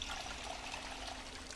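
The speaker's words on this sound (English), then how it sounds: "Let's go ahead and fill our water bottle." Water bottle filling in the Project Zomboid video game, a soft, steady trickle of pouring water that runs quietly and evenly throughout with no voices.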